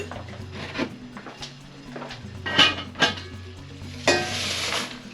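Vegetables with coriander powder and bay leaves sizzle in a pan. Several bursts of clatter and sizzle rise as they are tipped in and moved about, over a low steady hum, with no talking.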